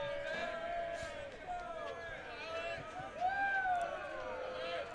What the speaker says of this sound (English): Crowd getting vocal